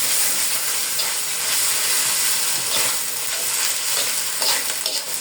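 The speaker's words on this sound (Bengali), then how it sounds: "ভালো করে ভেজে নিব।" Ginger garlic paste sizzles hard in a hot pan for a cabbage dish, a loud dense continuous hiss with stirring scrapes and crackles, close and with no talking.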